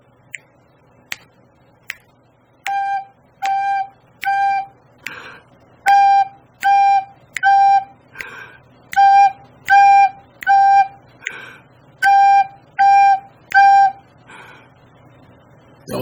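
A beginner's first recorder song on a few notes, short detached tones in small groups with breath gaps, preceded by a few evenly spaced metronome-like clicks setting the tempo, played alone and close.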